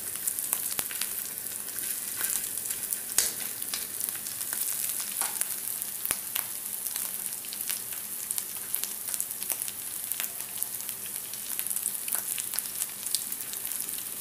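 Fish frying in a pan of oil as part of cooking sambal chili, a steady close, dense sizzle with crackling pops throughout, no talking.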